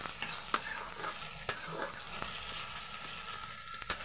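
Ginger-garlic paste frying in a pan, a continuous crackling sizzle broken by several sharp spatula scrapes and taps against the pan.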